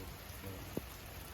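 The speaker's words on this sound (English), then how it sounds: "Oh my God, it's raining." Rain falls steadily outside a villa in Uluwatu, a faint, even hiss with one soft drip-like tap partway through.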